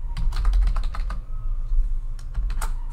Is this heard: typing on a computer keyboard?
yes